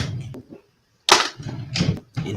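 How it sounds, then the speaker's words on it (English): Leftover fireworks popping outdoors in Illinois: a few sharp, loud cracks separated by short gaps, each burst broad and brief, heard alone without talk. "Fireworks. Leftover fireworks."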